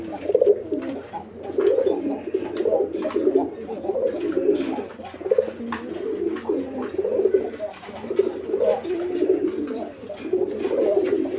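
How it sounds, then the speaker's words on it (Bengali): A male pigeon coos steadily and close after a female is added, with repeated throaty rolling coos in rhythmic bursts, joined by faint chirps and other birds in the background. "মাদিটা দেওয়ার পরে ওই নরটার ডাকটা আপনারা দেখেন"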